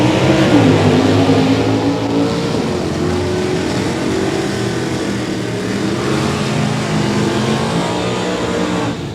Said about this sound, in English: It's a Mustang versus a Camaro.